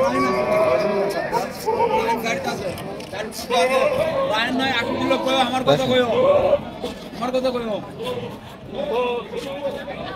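Goats and bucks bleat repeatedly at a weekly livestock market in Tebaria, Natore, their wavering cries overlapping with loud chatter and voices all around.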